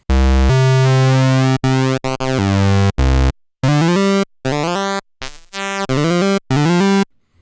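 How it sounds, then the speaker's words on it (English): A Korg MS-20 Mini synthesizer plays a run of short sustained notes that switch between triangle, saw and square waveforms, each tone loud and steady with abrupt starts and stops, separated by brief silences and some rapid changes in timbre. "first we have a triangle wave, then a saw wave, then we have a square wave which we can adjust the pulse width of"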